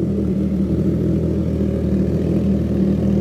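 A Triumph Trident 660 motorcycle idles through its exhaust with a steady, even low rumble that holds throughout, loud and close.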